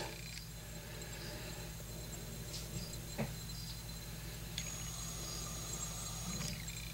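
Feeder crickets chirp steadily in a quiet indoor enclosure, a faint, continuous high trill with a few soft clicks and rustles over a low hum.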